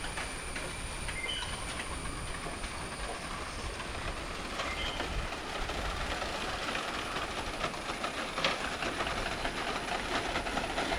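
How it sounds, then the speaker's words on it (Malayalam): Steady rushing wind roars continuously across the whole stretch, a broad noisy wash that swells slightly toward the end, with no voices. "കാറ്റത്തുള്ള സൗണ്ടാണ് കേട്ടോ"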